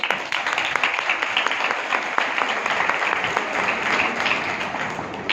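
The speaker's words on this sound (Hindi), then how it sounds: "यीशु के लिए जरा तालियां हो जाए।" A church congregation applauds for Jesus during a Hindi-language sermon, a continuous, fairly loud spread of many hands clapping with no voices above it.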